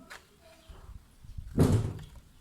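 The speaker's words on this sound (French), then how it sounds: "La porte qui claque." Neighbour's front door slamming, one solid thud standing out after a faint earlier knock, with quiet room noise around it.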